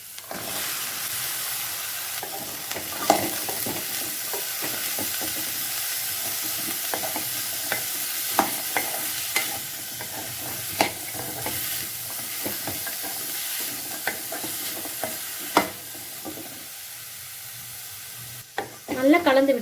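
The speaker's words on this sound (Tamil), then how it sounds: "கட் பண்ணி வச்சிருக்க காய் சேர்த்துக்கலாம்." Cut vegetables stirred and fried in a pan for Tirunelveli sodhi curry, with a steady sizzle broken by repeated scraping stirs and clinks of a spoon against the pan, close and clear, with no talking.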